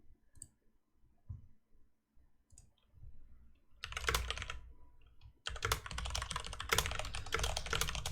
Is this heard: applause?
no